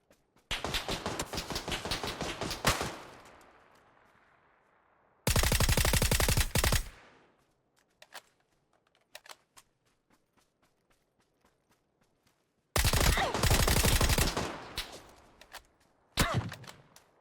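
Bursts of automatic gunfire in the shooter game PUBG, three loud sustained volleys separated by quieter gaps with scattered single distant shots in between, close and sharp.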